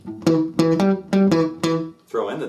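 Blues guitar lick played as single notes without double stops, five plucked, bent notes in a steady rhythm followed by a brief strummed flourish, close and clear with no talking.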